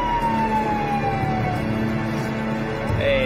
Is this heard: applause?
no